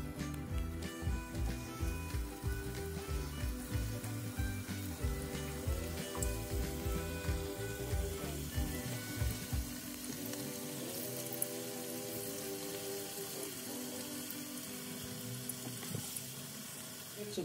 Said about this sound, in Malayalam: ചിക്കനൊക്കെ ഫ്രൈ ആക്കി എടുത്തിട്ടുണ്ട്.